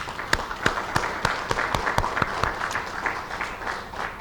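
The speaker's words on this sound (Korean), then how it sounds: "하나님 앞에 우리 모두 영광의 박수를 올리겠습니다" A seminar audience marking fourteen years since an oil-spill recovery gives rhythmic, unison applause, sharp synchronized claps at a steady beat over a softer wash of scattered clapping.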